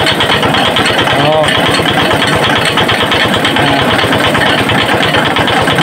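A small engine drives an abaca fiber stripping machine, running steadily and fairly loud with a rapid rhythmic chugging throughout, while people talk over it.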